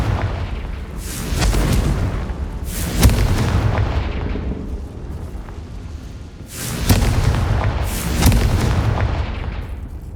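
The Confringo explosive spell goes off twice in the Hogwarts Legacy video game, each a loud booming blast with a rumbling tail, spaced several seconds apart.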